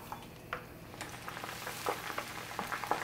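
Fresh noodles fry in hot oil for mi xao don, giving a steady soft sizzle with small pops and crackles, faint and close with no voices.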